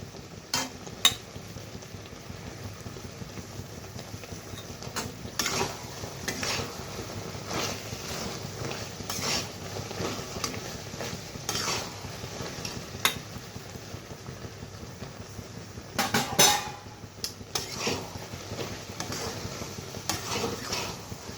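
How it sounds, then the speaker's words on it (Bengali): Chalta (elephant apple) pickle with jaggery and fried spices stirred in a pan, soft scraping strokes and faint sizzling at an uneven rhythm, quiet and close. "মশলাগুলো তো দিয়ে দিলাম, তো এখন ভালোভাবে নেড়ে নামিয়ে নেব।"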